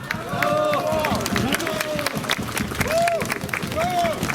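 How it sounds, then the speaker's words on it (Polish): Audience at a political rally applauds in a sustained clatter of clapping with crowd murmur, while a voice speaks over an amplified system and a few whistles rise above the noise. "Proszę o brawa."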